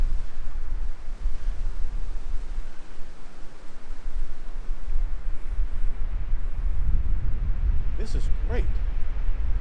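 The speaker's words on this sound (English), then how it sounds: "Listen to that wind." Strong wind roars across the Hawksbill mountain trail in Shenandoah National Park, a loud, continuous gusting rush buffeting the microphone, with a brief voice speaking near the end.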